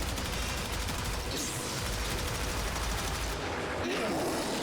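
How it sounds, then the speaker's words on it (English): Automatic weapon fire in the sci-fi shooter Warframe, aimed at a boss enemy: a steady, loud stream of rapid shots with layered bursts and impacts, a voice talking faintly underneath. "Now we can just full-on shoot him."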